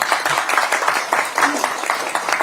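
Crowd at a Korean Democratic Party political event claps for a former governor, with brisk, steady applause lasting a couple of seconds and sounding fairly close and loud.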